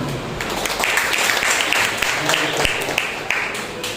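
A church congregation at a Sunday morning service breaks into applause, a few seconds of dense clapping from many people with a voice briefly heard over it.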